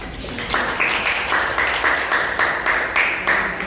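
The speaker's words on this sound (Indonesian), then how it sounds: "Oke, tepuk tangan." Students in a maths classroom clap together in a loud, rhythmic round of applause, close by, with sharp evenly spaced bursts throughout.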